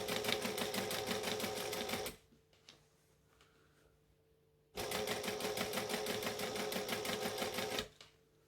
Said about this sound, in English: So I've stitched seam to seam on the waistband.